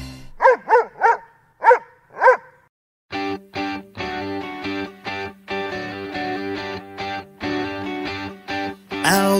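A dog in a pet food advert barks in a quick run of five sharp, close barks, followed by a steady stream of music-like, distorted yips and beats.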